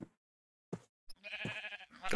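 Sheep in a Minecraft world bleat in a single wavering, nasal call lasting about half a second, close and clear, framed by a few short game clicks and a burst of other noise at the end.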